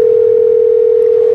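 A steady, unbroken telephone tone during a phone call, loud and close, holding one pitch throughout with no voices.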